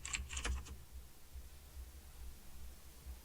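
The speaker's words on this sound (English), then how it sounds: "Start typing and choose a contact from your list." Typing on a computer keyboard: a brief burst of a few quick, faint key clicks at the start, then only low background hiss.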